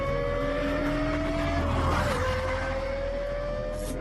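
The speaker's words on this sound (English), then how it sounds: "Only a high-revving V10 engine supplies this combination of power and sound" A Lexus LFA's high-revving V10 engine holds a steady, high-pitched tone that dips briefly mid-way and then climbs again, heard clearly and alone.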